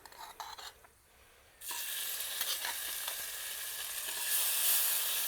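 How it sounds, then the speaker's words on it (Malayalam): Fish laid into hot oil in a pan, quiet handling noises, then a sudden loud, steady sizzle that swells slightly and carries on to the end. "എണ്ണ ചൂടായി നമുക്കിങ്ങനെ മീൻ വെച്ച് കൊടുക്കാം"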